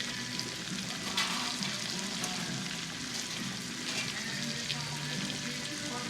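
Country fried steak fries in hot oil, a dense, continuous sizzle and crackle heard close and moderately quiet, with no voices over it.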